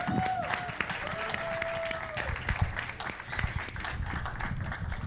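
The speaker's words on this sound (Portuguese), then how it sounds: "Palmas para o Otto e para a Eliane, gente." An audience applauds for Otto and Eliane, a dense, steady round of clapping from a crowd that runs throughout, with scattered sharper claps and a faint voice or two briefly above it.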